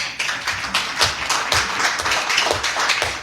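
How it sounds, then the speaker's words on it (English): Audience clapping during a midwifery training workshop hosted by a health ministry, a dense, steady patter of many hands kept up for about three seconds with no voices over it. "I think you should give that applause."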